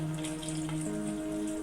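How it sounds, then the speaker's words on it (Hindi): Water poured into a pan of egg chilli masala after the tomatoes and onions have been fried, a short steady splash and trickle lasting under two seconds, up close, with no talking. "जो है वो पानी ऐड करता हूँ।"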